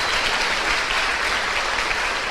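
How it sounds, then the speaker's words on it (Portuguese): A church congregation applauds steadily during an evening worship service, with dense, even clapping that fills the whole moment at close range and no break. "Podem aplaudir a Jesus e aos queridos aí."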